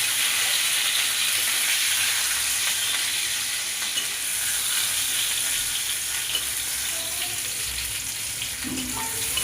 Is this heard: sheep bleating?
no